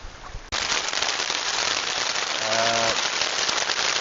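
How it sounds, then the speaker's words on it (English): Dense, steady downpour of heavy rain during a thunderstorm, hissing continuously across the whole clip, with a brief low tonal hum partway through. "It's raining very heavily, as you can hear."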